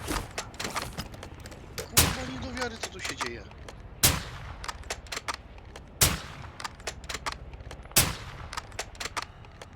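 Bots firing guns in a video game, sharp gunshot bursts recurring roughly every two seconds with scattered fainter shots and clatter between them, loud and close.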